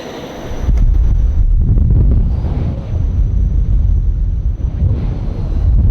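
Strong wind buffeting a microphone outdoors, a loud continuous low roar with gusty swells and no speech.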